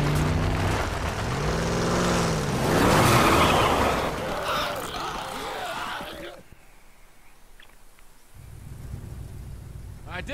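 A truck engine in The Last of Us Remastered, running and driving, with a loud rumbling drone and shifting pitch sweeps at first, then dropping to a quieter idle-like hum.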